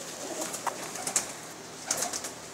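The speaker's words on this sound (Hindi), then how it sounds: "यह सलेटा कबूतर है" A few soft slate-grey pigeon coos and faint flutters sound over a quiet outdoor hiss, spaced irregularly.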